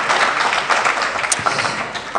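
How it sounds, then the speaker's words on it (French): A conference audience applauds a departing speaker, a dense, steady wash of many hands clapping at close range with no voices over it. "Je vous demande de l'applaudir une dernière fois pour son exposition."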